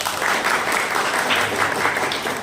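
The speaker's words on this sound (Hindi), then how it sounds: "एक बार जोरदार ताली होनी चाहिए।" Crowd applause at a Republic Day seminar in a hall, a dense, continuous burst of clapping that stays loud and even for its whole length.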